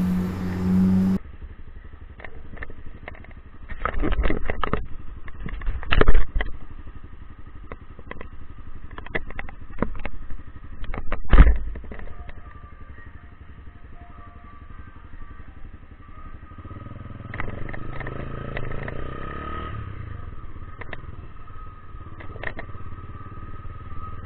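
A Honda CB300 motorcycle out on a final ride, the engine idling and revving in uneven bursts with clattering bumps, then settling into a steadier running drone toward the end.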